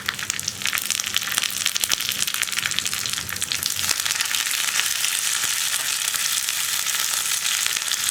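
Dried red chilies and curry leaves fry in hot oil for a Kerala-style drumstick and mango curry, a loud, crackling sizzle that runs continuously and up close, thickening slightly midway.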